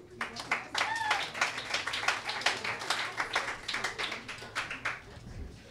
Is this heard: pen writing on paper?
no